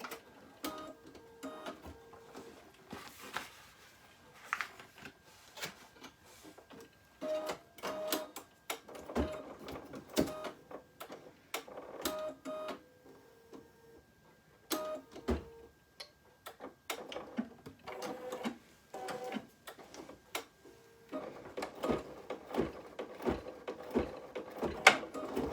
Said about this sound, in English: it's just stitching out those outlines